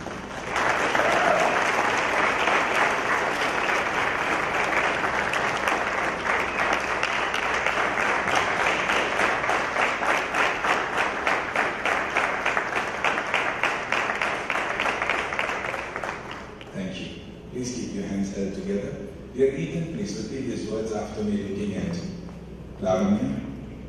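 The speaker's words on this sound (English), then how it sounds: "Let's give them an applause." Sustained applause from wedding guests for a newly married couple, a thick run of clapping lasting well over ten seconds before fading as a voice begins talking.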